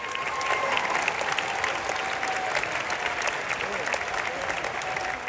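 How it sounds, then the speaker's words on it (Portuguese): Sustained, dense clapping from a moved audience in a standing ovation, steady and unbroken throughout the whole stretch. "A plateia, emocionada, aplaudiu de pé."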